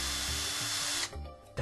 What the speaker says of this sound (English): Was that a vacuum? A drill? It was a drill?